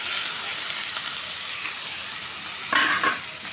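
Potato and papaya fry with browned onions in a pan, giving a dense, even sizzle that holds steady, with a brief louder clatter near the end.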